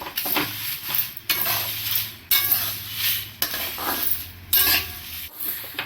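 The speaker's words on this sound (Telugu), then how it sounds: "వేసుకొని ఆ నువ్వుల పప్పు లైట్ గోల్డ్ కలర్లో వచ్చేంత వరకు వేపుకోవాలన్నమాట." Sesame seeds and dried red chillies fry in a pan, with a continuous sizzle and a repeated scraping, clinking stir of a utensil against the metal every second or so, close and loud.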